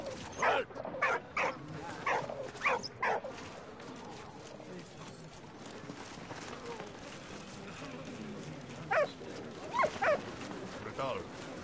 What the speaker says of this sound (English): Dog is barking at this pigeon,